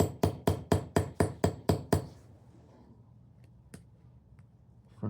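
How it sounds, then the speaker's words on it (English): Hammer striking a stud post on a Dainese Smart Jacket LS Sport motorcycle jacket during a wiring repair: eight quick, evenly spaced sharp metallic taps up close, then near silence with a couple of faint clicks. "I'm going to hammer home that stud."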